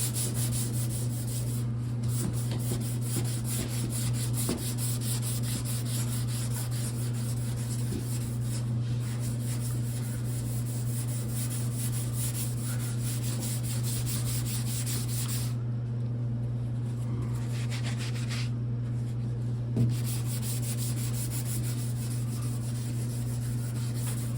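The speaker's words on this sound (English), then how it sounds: "When you take your sandpaper and you start sanding" Steady hand sanding with sandpaper on the bed body panels of a 1974 Ford F250 truck, a continuous close rasping rub that runs the whole time with brief pauses in the strokes, over a constant low electrical hum, with no talking.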